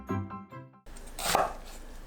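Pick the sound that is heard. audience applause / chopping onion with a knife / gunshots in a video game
chopping onion with a knife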